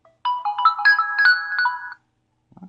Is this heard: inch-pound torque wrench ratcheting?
no